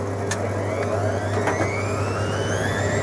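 Hoover Logic washing machine on a cottons 40 cycle, spinning at 500 RPM: a steady mechanical hum with a low motor drone and rising whine, continuous and close, with no talk.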